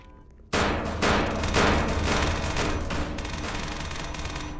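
Sustained gunfire in the SCP Task Force video game: a loud, dense burst of rapid shots starts abruptly and continues unbroken for about four seconds with no talk.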